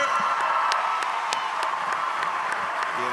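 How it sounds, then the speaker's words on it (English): Audience applause rising as a steady wash of many hands clapping, continuous and fairly loud throughout, with a few sharper individual claps standing out. "Round of applause."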